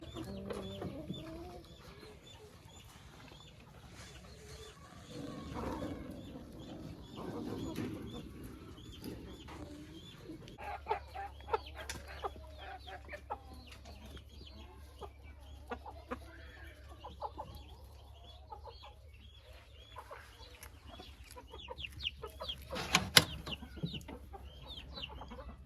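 Hens cluck in a farmyard enclosure, scattered soft calls and scratching sounds at a moderate distance, with a steady low hum in the background.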